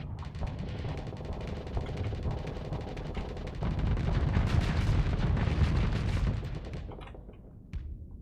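Ship weapons firing in a space battle in Starsector, a dense, continuous barrage of booms and rattling shots that swells louder midway before tapering off, with no talk over it.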